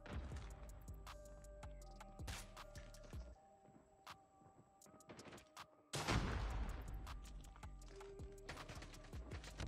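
Gunfire in Call of Duty Mobile cracks out in rapid, sharp bursts of shots up close, broken by a short lull before another loud volley starts, with no talk over it.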